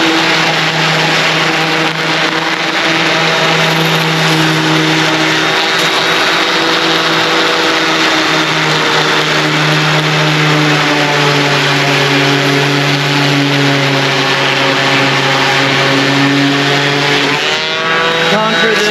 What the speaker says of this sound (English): Next up, the little DeWalt sander with some 40 grit.